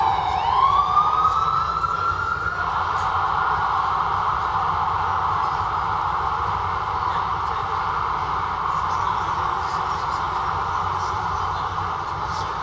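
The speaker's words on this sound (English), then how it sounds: "I never knew an ambulance siren sounds like the breath" A steady wailing ambulance siren in Times Square rises and then holds a long, continuous tone, sounding moderately close over a low rumble, with no voices.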